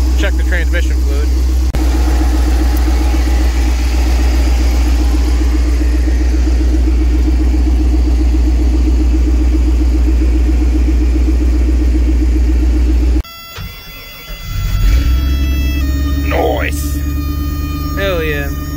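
A cabover ramp truck engine fitted with Flowmaster 40 mufflers idles steadily and loudly with a deep drone, then cuts off abruptly near the end, leaving quieter clatter and brief noises.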